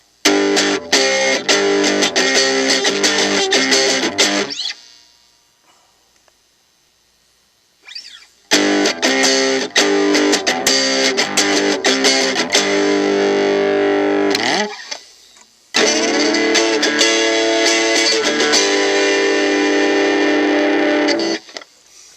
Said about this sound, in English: that's what it sounds like in distortion mode